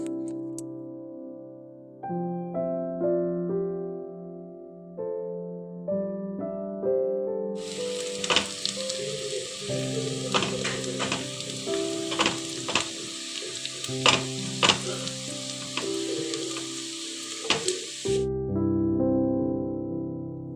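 Chopped garlic drops into hot oil in a wok and bursts into a loud, steady sizzle with occasional stirring clatter, preceded by tonal background sounds and dying away near the end.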